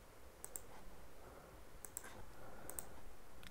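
Computer mouse clicks during astrophotography image processing, three crisp, faint double clicks spaced about a second apart in a quiet room.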